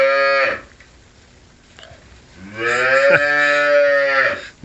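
A bull calf moos twice up close, a short bellow followed by a longer, loud, rising and falling call after a brief pause.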